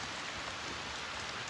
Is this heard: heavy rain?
yes